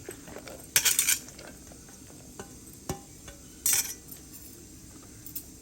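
Chopped ridge gourd pieces are tipped into a pot of dal with onions and green chillies, making two short bursts of bright clattering and spoon clinks over a quiet background.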